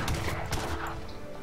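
Cannon fire in the video game Age of Empires 3: a quick burst of several booming blasts in a rough volley, loud and close, fading out within a second and a half.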